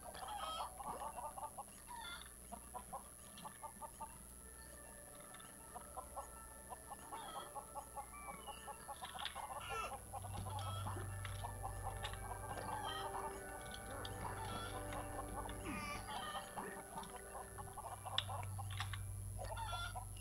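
Chickens in the LEGO Worlds video game cluck in scattered bursts over a low game background hum, with a rooster-like crow among them and no talking.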